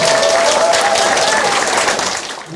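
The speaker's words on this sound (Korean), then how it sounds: "박수 좀 부탁드립니다." Steady applause from a crowd at a campaign office opening for a Gangwon provincial council candidate fills the whole stretch, dense and continuous clapping that tapers slightly near the end.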